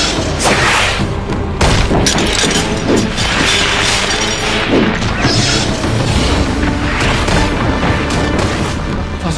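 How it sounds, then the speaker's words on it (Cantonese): Giant stone catapult projectiles slam into a besieged city in a dense, loud barrage of booming crashes and smashing impacts that repeat continuously, with no voices. "啲楚軍用巨型石炮攻擊我哋啊"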